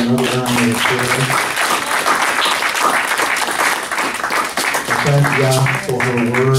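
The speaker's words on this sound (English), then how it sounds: "Let us give Kamaniyah another round of applause." An audience applauds at a Shabbat morning gathering, a steady stretch of clapping with a speaking voice heard over it at the beginning and again near the end.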